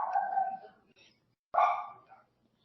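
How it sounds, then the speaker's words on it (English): A small dog gives two short, sharp barks, fairly close, separated by a brief silence in an otherwise quiet room. "Settle that dog down"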